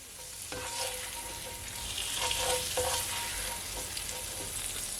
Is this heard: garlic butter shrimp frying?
yes